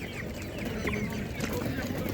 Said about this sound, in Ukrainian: Такий бролер.